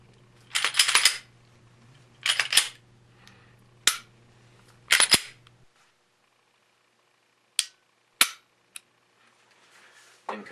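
A handgun's trigger pressed and reset, giving a series of sharp, close metallic clicks that come singly or in short clustered bursts with pauses between them, alone.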